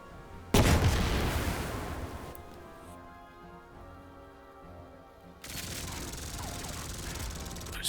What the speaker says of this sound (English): My tank is going to fire at them, though.